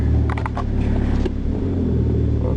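A Hyundai car engine idles just after starting, a steady close low rumble with a few brief mechanical rattles early on, no talking.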